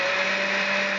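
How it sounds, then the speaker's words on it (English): A blender whirs steadily at high speed while mixing homemade mayonnaise, a loud, even motor drone up close with no break. "The blender's going on."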